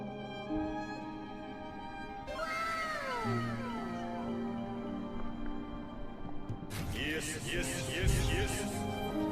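A grumpy cat meows repeatedly at close range, several drawn-out, bending cries in a row amid background game music and noise.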